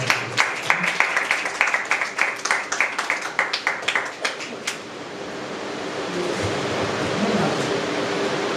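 A church congregation claps in a burst of applause during a Good Friday service, sharp overlapping claps for several seconds that fade into a steady roomy hiss.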